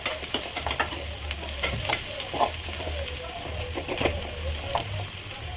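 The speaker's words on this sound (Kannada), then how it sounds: "ಇನ್ನೂ ಸ್ವಲ್ಪ ಫ್ರೈ ಆಗಲಿ" Drumstick leaves with salt fry in a pan, a steady close sizzle under repeated scraping and stirring strokes with light clinks, with no talk.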